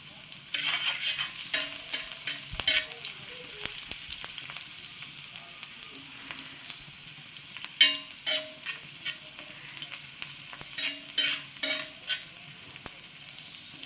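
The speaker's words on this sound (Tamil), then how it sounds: "பூண்டு எடுத்து அப்படியே வந்து சேர்த்து வதக்கி விட்றேன்" Ginger and garlic sauté in a pan for chicken sukka, a continuous sizzle broken by repeated scraping and clattering strokes of a stirring spoon, close and moderately loud.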